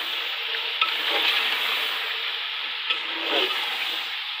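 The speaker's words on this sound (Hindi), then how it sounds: "आलू थोड़ी देर भूनेंगे" Potatoes fry in a pan for chicken curry, giving a continuous close, hissing sizzle with soft scraping stirs now and then; no voices.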